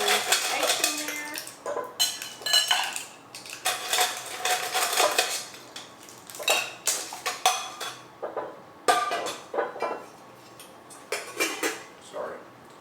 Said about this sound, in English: So we are going to be putting some ice in there.